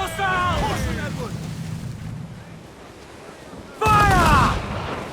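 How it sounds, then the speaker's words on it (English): Ship mortar fire in the naval combat of the video game Assassin's Creed IV Black Flag: two heavy booms over rushing wind and sea, each under loud shouted crew commands. "Hit her from a safe range with our mortars!"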